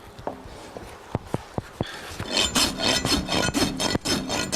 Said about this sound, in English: Our rasp is perpendicular to the bottom, shaping it.